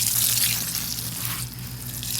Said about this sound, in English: Next thing I'm gonna do is just water the soil.